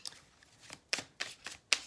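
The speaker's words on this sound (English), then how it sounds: "Doing just a little bit more shuffling on camera for those who like to see the cards being shuffled." Tarot cards are shuffled by hand in crisp, close bursts, five or six quick riffling rasps at uneven intervals with quiet gaps between them.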